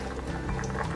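Garlic warming gently in olive oil in a pan for a lemon-garlic pasta, a steady close sizzle and bubbling hiss that runs without a break for about a second.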